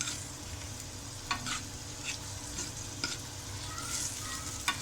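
Onions frying lightly in oil over medium heat for a keema karela dish, a steady soft sizzle with occasional stirring clatter, close and continuous, no voices.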